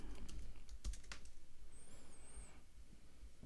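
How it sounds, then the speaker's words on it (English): Fast, steady typing on a computer keyboard while entering a search into Google, a continuous run of close, crisp key clicks with no talking. "type in QR code generator"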